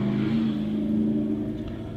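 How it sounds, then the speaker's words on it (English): A car engine rumbles loudly and steadily close by as traffic drives past, a sustained low drone holding for about two seconds with no talking over it. "the cars going by really loud"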